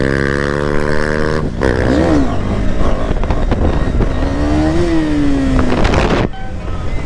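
A KTM Duke 390 motorcycle engine roars loud and close during a wheelie, climbing and falling in pitch as the rider works the throttle, with heavy wind buffeting the microphone and a brief drop in power before it surges again.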